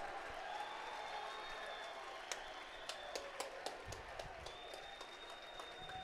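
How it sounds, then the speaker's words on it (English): Fans in a school gymnasium at a boys' playoff basketball game roar and clap after a layup, a distant, diffuse crowd swell punctuated by sharp sneaker squeaks on the court. "And that's got the crowd on their feet here at Bobcat Gymnasium."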